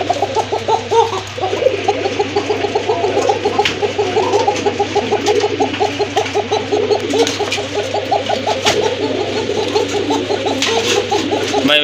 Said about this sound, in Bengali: যাদের অ্যাকচুয়ালি ভালো মানের ডাকের কবুতর প্রয়োজন, কোকা কবুতর